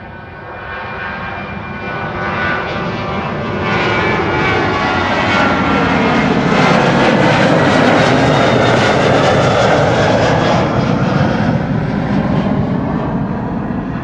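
An Aer Lingus jet takes off from runway 24 at Amsterdam Schiphol, its loud engine roar swelling steadily and holding near and strong as the aircraft climbs out, with no voices over it.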